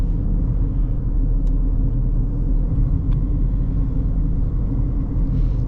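A car overtaking another vehicle on the road, its engine giving a steady loud low rumble with constant road and tyre noise, a couple of faint ticks over the top.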